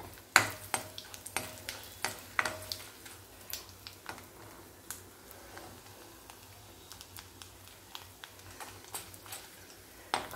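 Roasted chana dal and a green chilli frying in a pan, heard as a soft sizzle broken by frequent sharp ticks and clinks of a spoon stirring, fairly close with no talking.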